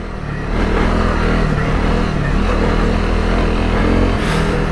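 A Honda CRF250 Rally motorcycle engine revs steadily and loudly, a continuous mid-pitched drone with slight rises in pitch, close to the listener.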